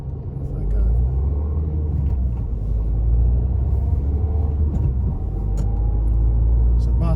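A learner car pulls away in first gear on a country road test route, its steady low engine rumble rising slightly in level and holding continuous throughout, heard from inside the cabin.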